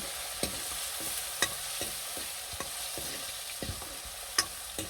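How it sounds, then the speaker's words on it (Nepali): Tomatoes and onion stirred in a frying pan, a steady sizzle under irregular scraping knocks of a spoon against the pan, several sharp clinks spaced through the stretch, no voices. "टमाटर राखिसकेपछि यसलाई यसरी एकछिन चलाउने मजाले"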